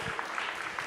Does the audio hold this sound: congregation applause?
yes